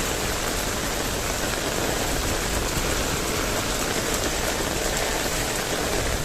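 Heavy rain pours steadily onto an umbrella during a walk outdoors, a dense, close, continuous hiss of drops drumming on the fabric with no pauses.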